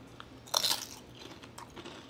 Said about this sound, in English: Chip is nice and crispy. I know y'all hear that.